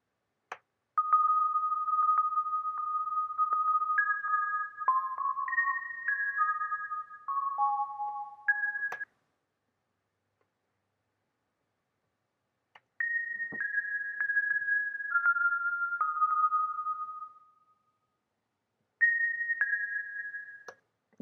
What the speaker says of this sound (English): accent sine waves, and they're just like higher up.